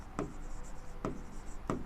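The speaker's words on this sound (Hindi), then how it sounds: "चलो क्विकली लिखते हैं।" Three evenly spaced, quick strokes of chalk or marker on a classroom board during a chemistry lecture, faint and close, over a low steady room hum.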